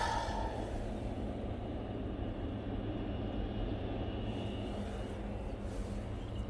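A TUI airliner departing Manchester Airport for Verona gives off a continuous broad engine roar that stays steady across the whole stretch, fairly distant and unbroken by speech.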